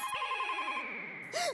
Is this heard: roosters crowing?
no